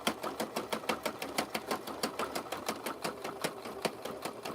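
A sewing machine stitches rope for a handbag in a fast, even run of mechanical clacks, loud and close, keeping a steady rhythm for the whole stretch.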